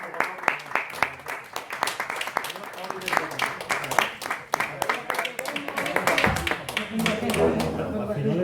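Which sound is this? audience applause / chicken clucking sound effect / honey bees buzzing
audience applause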